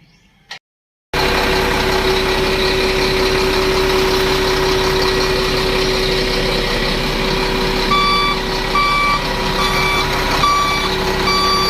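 A truck's engine idles steadily while a newly replaced reversing horn beeps in a regular repeating pattern as it backs up, loud and close, with no talking.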